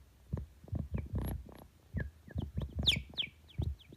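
A Moog synthesizer plays a series of pulsing notes whose filtered tones sweep into quick, chirpy bird-like squeaks, close and moderately loud.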